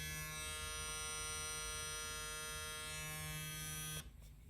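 A WezTeck electric hair clipper switched on and running close by, giving a steady, strongly tonal motor buzz for about four seconds before it cuts off abruptly.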